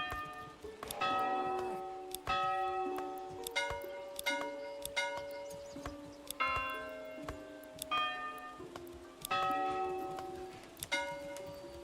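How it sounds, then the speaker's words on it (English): Church bell in the Manor Lords medieval town-building game, struck repeatedly in an irregular peal of ringing strikes, each decaying into a sustained metallic hum, moderately loud with no talk over it. "we can change the sound of the bell."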